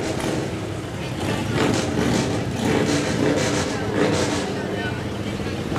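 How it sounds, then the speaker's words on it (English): Continuous rumbling engine noise from a row of tractors, including Internationals, rolling past in a festival parade, steady and fairly loud, with a broad mechanical roar throughout. "we've got the row of tractors coming at us, Glenda."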